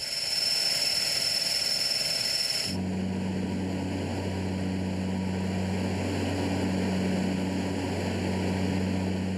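The engines of a Reims F406 Polmar customs anti-pollution aircraft run steadily before takeoff at the Hyères naval air base, a loud continuous drone whose tone shifts partway through.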